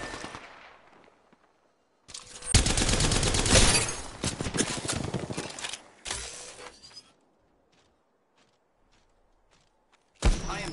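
Bursts of automatic gunfire in the Apex Legends video game, a dense volley of rapid shots lasting several seconds, a shorter burst after a pause, then a final loud burst, with near-silence between them.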